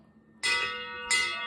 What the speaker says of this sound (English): I don't know how to ring a bell.